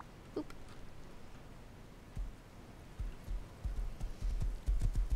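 Horse hooves clip-clop steadily in a video game ride at night, a soft rhythmic clatter that grows louder and heavier toward the end, with no talking.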